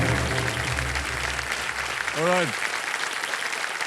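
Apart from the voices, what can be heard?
audience applause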